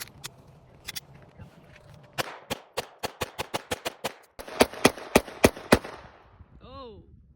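Winchester ammunition rounds are fired in a rapid run of sharp, loud gunshots, spaced fairly evenly with a few brief pauses, ending in a short whooshing, fluttering sound.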